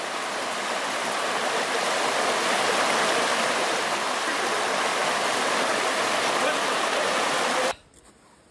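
Water in a mountain stream rushes steadily along a forest trek trail near Dalhousie, a loud, close, broadband flow holding level for nearly eight seconds before cutting off abruptly.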